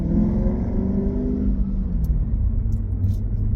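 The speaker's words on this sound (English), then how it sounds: "you bump it up to about 2000 RPMs, 2200 RPMs, it makes the rumble sound" A Lexus IS500 fitted with an Apex'i N1 Extreme exhaust rumbles deeply while driving in Eco mode, a loud, steady low growl with slowly shifting engine tones, heard from inside the car without talk.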